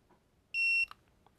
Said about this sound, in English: you hold the set button down until it beeps